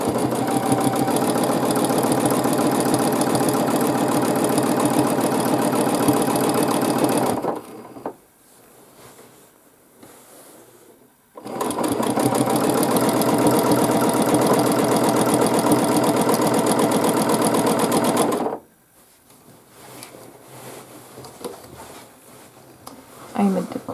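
A sewing machine free-motion quilting a continuous wavy line across a large quilt sandwich. It runs in two long, loud, steady bursts of rapid needle stitching, separated by a short quiet pause.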